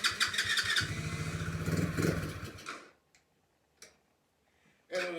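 A Tao Tao Boulder B1 110cc ATV engine fires up loud and close, running roughly for under three seconds before cutting out, leaving near-silence broken by a few faint clicks.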